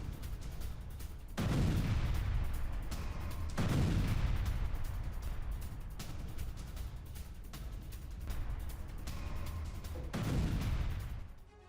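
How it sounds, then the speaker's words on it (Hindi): Howitzer artillery shelling pounds a Russian bunker in Zaporizhzhia. Several deep, rolling booms land seconds apart over a continuous rumbling, distant-sounding background. "ज़ैपोरिजिया में रूसी बंकर पर ताबड़तोड़ शेलिंग हुई है।"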